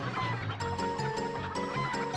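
Chickens clucking in the video game Breath of Fire IV: repeated, closely spaced clucks and squawks from several birds, loud and near, with no talk over them.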